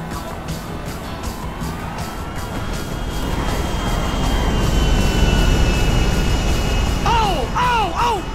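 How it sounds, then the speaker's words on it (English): An airplane in the GTA 5 video game roars past overhead, its engine drone swelling loud over steady car rumble, followed near the end by a sharp warbling siren-like whine. "Oh, the plane!"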